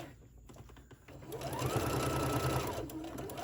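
A sewing machine back-stitches elastic onto a decorative face mask, a close, steady motor whir that starts softly and then runs loud and even, with no talking.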